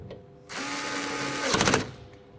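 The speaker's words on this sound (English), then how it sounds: "Let's just tighten up the screws now" Power tool driving screws into the roll bars of a Pillion Pooch carrier lying on its back, a close whirring burst of about a second that ends in a harsher grinding spike.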